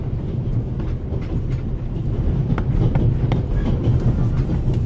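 Rail wheels clatter steadily beneath an Orient Express passenger car, a continuous heavy rumble with irregular clicks and clacks, close and fairly loud, no voices.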